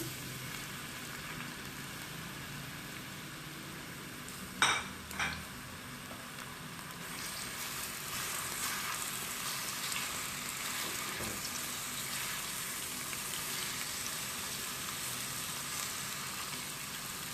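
Two large chopped onions frying in a pot for Sindhi biryani, giving a steady, moderate sizzle throughout, with two brief sharp clatters near the start and the frying noise swelling slightly afterward.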